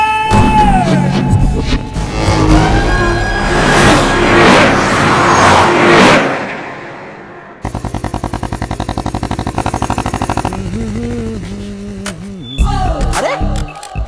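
A motorbike engine revs hard and close, loud and raw, then drops into a fast steady throb with sharper bursts near the end, standing alone with no talk.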